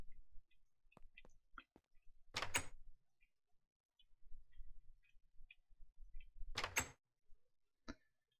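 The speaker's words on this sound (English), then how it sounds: "fill in the doors on both sides of your iron golem farm" Two short wooden clunks of doors being placed in Minecraft stand out against near silence, several seconds apart, with faint soft clicks and block sounds scattered between them.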